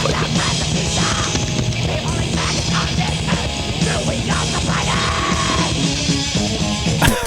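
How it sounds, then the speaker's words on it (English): A female screaming vocalist on a played tape yells harshly over heavy music with pounding double kick drums, dense and continuous at moderate loudness. "That sounds like a female screaming vocalist to me."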